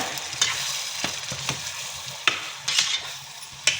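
Eggplant frying in oil with masala while a spoon stirs it, giving a continuous sizzle broken by repeated scraping clacks against the pan, close up and with no voices.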